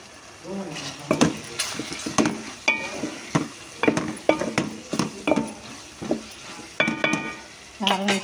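Eggplant curry stirred in a pan after chili powder goes in, with soft sizzling under repeated sharp scrapes and clinks of a spoon against metal, close and irregular.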